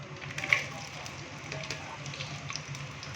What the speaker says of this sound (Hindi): प्याज को हम अच्छे से फ्राई करेंगे।